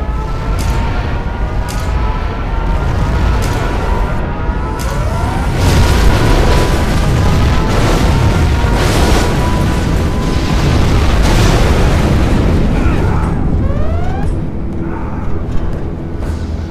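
A huge, prolonged nuclear missile explosion in a video game, with deep rumbling booms and crackling debris, loud and close, rolling on for many seconds with bursts and sweeping tones.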